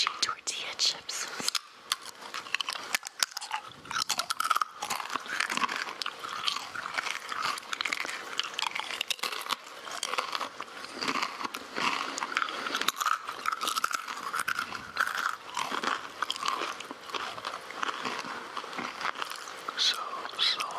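Someone munches crunchy tortilla chips, with close, irregular crunching and chewing throughout. Quiet, whispery voices talk over the eating.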